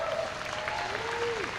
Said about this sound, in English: Clap all the way to the stage.